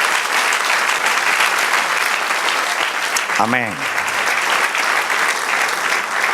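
Church congregation applauding during a Spanish-language sermon, steady sustained clapping filling the whole stretch with a brief spoken exclamation in the middle.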